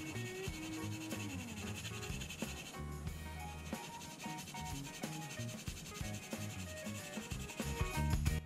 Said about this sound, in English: started sanding it flush with some of the sanding sticks and smoothing it out eventually with some of the sanding sponges